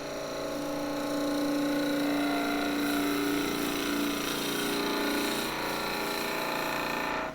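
A skew chisel cuts wood on a spinning lathe while skittles are turned, a steady hissing scrape over the motor hum that swells and eases slightly as the cut progresses.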